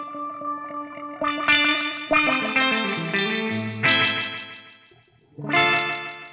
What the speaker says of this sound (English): It's got like a auto filter on it or something.